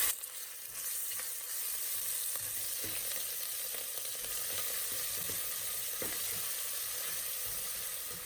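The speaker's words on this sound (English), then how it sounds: "So now I'm going to add ginger next. Garlic. Stir it." Ginger and garlic fry in a pan for a yellow lentil daal, making a continuous close, crackling sizzle with occasional light scraping as they are stirred.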